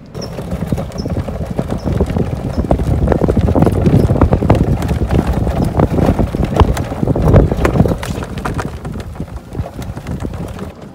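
Steady clip-clop of hooves on hard ground, a rhythmic string of close knocks with wind buffeting the microphone throughout.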